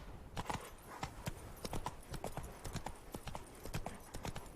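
Roach the horse gallops in The Witcher 3, hooves clip-clopping in a fast, steady rhythm throughout, close and fairly quiet with no voice over it.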